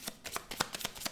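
Lenormand cards being shuffled by hand in a quick run of soft papery riffles and slaps, about eight close strokes in just over a second, with no voices.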